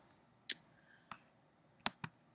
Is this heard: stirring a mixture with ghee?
no